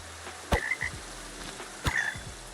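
Frogs croak in the video game Minecraft, two short sharp calls spaced about a second apart, fairly close and clear over a quiet background.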